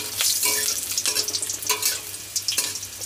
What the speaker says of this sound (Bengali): রসুনটা একটু পরিমাণ মতন ভেজে নেব